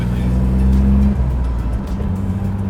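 A 1988 Ford Granada 2.9i V6 with a manual gearbox pulls hard from inside the cabin, its engine note droning low and loud, then easing as a gear changes.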